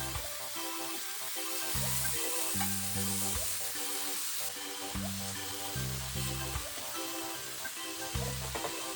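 Onion, carrot and cauliflower rice stir-fried in an oiled pan with spring onion, a steady broadband sizzle under repeated clattering strokes of a utensil against the pan, with a light rhythmic pattern throughout.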